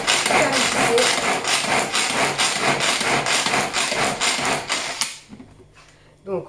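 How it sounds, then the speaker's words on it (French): Speedy Chef manual pull-cord chopper blending strawberries: a loud, rhythmic churning and rattling of the blade in its bowl, pulsing steadily for about five seconds before stopping, followed by quiet handling noises. "Je mets le couvercle et j'ai plus qu'à mixer."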